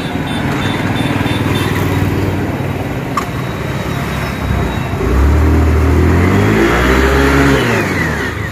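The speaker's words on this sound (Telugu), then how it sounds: "ఇప్పుడు బండి స్టార్ట్ చేస్తున్నాం" A motorbike engine fires up outdoors and idles with a rough, mid-pitched rumble, then revs harder and louder partway through, its pitch climbing and falling in a few throttle blips.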